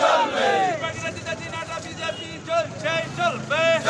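BJP workers and supporters blocking a road between Dinhata and Cooch Behar with burning tyres, a crowd shouting slogans in loud, overlapping bursts of raised voices, close by.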